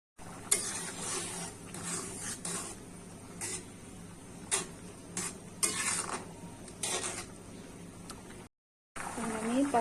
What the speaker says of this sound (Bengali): এখন আমি ডালগুলাকে আরেকটু জাল করে নিব।